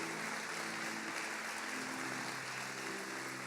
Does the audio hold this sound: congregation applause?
yes